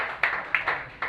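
A stand-up comedy audience in Brooklyn claps, heard as a few sharp separate bursts of clapping rather than a long sustained ovation.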